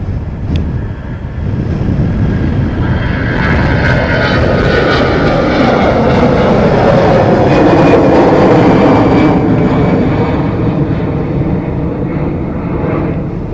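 An Iberia airliner bound for Madrid at Dublin Airport, a loud sustained jet engine roar swelling and holding, with a whining turbine tone and some wind noise on the microphones.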